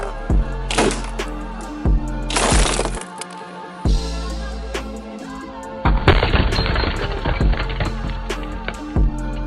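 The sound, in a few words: glass bottle shattered by slingshot shot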